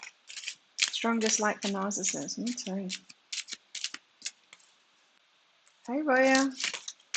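A deck of cards is shuffled by hand near the listener, with rapid riffling bursts and flicks scattered through the clip, while people talk over parts of it.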